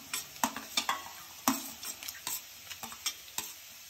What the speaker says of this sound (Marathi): आपल्याला 1 ते 2 मिनिट चांगले हे तेलामध्ये परतून घ्यायचं आहे सगळं।